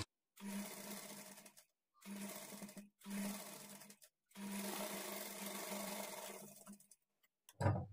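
A sewing machine stitches a lining blouse at a quarter-inch margin in four steady runs of close, rapid mechanical whirring separated by short pauses, ending with a brief low thump.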